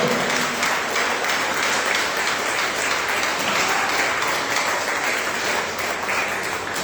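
A church congregation claps steadily through a worship service, a dense, even wash of applause at moderate level with no break.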